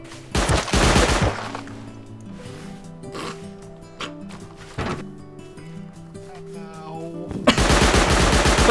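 Automatic gunfire in the survival game Rust, with loud machine-gun bursts at the start and end and scattered single shots and clatter in between.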